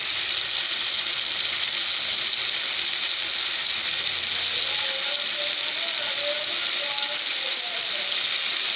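Spices and garam masala sizzle and crackle steadily in a hot pan for a mutton curry, a constant loud frying hiss with no pauses.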